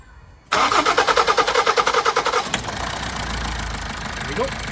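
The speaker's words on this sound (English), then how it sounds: "Right, fire it up there and see." A 2011 Toyota Avensis T270 with a 2.0 D4D diesel engine, after injector seal repair, cranks with rhythmic chugging for about two seconds, catches and settles into a steady, close knocking idle.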